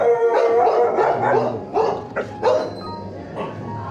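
Several dogs barking and howling nearby at a house in Wayanad, overlapping in a continuous, noisy chorus.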